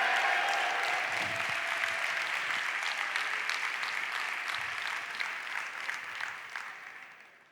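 An audience at a blockchain conference event breaks into sustained clapping with a few cheers, a dense wash of applause at close-to-moderate distance that slowly fades toward the end.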